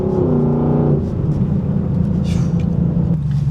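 A Lexus LC500's V8 rumbles loud and close, a deep steady roar that swells briefly and then settles into a sustained throaty drone.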